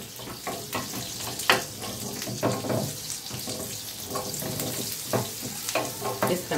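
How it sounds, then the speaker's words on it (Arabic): Vegetables for shish tawook hit a hot pan and sizzle steadily, with stirring scrapes and clatters rising over the frying hiss, close and fairly loud without speech. "نسخن بس الطاقة ونبدأ نشوي، ننزل بالخضار بتاعنا علشان يتشوي"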